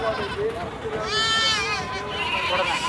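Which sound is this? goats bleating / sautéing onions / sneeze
goats bleating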